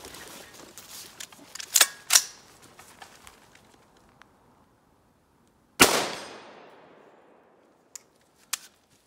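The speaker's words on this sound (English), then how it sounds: "We're shooting at 100 yards right now." Rifle shots at a shooting range firing at 100 yards: a few sharp cracks early, one loud close report with a long decaying echo near the middle, then fainter distant pops.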